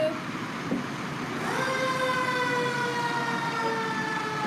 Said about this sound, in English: That's the big red fire engine.